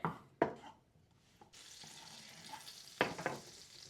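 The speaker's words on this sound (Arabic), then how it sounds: "نديروا الزبده، زيت الزيتون، ونتسناو المقيله ديالنا تسخن واحد شويه" Butter and olive oil warming in a frying pan, a soft steady hiss rising after a few sharp knocks and clatters at the start, with another brief clatter later.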